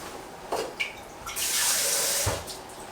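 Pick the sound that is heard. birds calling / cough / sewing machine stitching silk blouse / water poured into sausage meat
water poured into sausage meat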